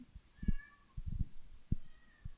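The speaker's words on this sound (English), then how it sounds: "If you guys hear any background noise, both cats are going wild right now" Two cats meow indoors in a quick run of short, fairly quiet cries, a few overlapping, with brief pauses between them and no talking.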